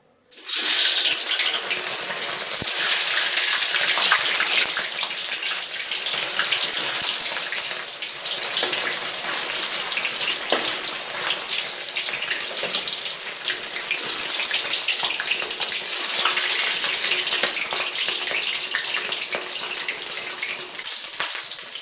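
Vegetarian mock pork intestine frying in hot oil, a loud, continuous sizzling hiss that holds steady for about twenty seconds with small swells, close up and with no talking.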